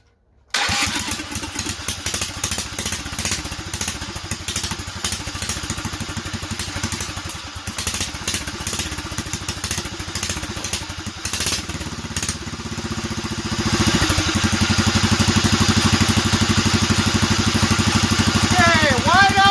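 A DuroMax 440cc generator engine cranks and catches on full choke with slight throttle, running in a rough, rapid clatter that swells louder and steadier toward the end, with no talk.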